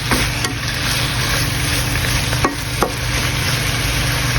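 Onion stirred and sizzling in a frying pan, a steady frying hiss under a low hum, with a few sharp scrapes and clinks from stirring.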